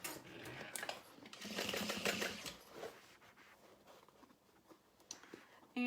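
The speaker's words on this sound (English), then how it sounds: "I'm using an industrial sewing machine" An industrial sewing machine stitches a fabric beauty bag in a short burst of rapid mechanical clatter, then falls to quieter intermittent ticks and rustles at close range.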